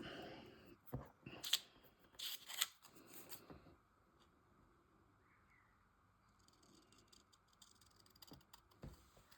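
Scissors cut paper for a collage illustration, with several crisp, close snips in quick succession early on, then quiet rustling and faint handling sounds.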